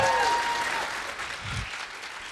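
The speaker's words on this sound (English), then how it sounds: "Round of applause." Audience applause after a lightning talk at an indoor event, a steady wash of clapping sustained throughout, moderately loud and fairly close, with no talking over it.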